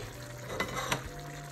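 Chopped peppers drop into a hot pan and fry, a soft hiss with two brief clattering bumps from stirring, low and close with a faint background hum.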